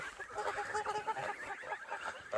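Farm geese hiss and honk at dogs at sundown, a harsh, breathy, continuous noise with rough calls close by.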